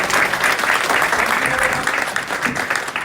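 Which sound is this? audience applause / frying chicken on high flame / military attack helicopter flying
audience applause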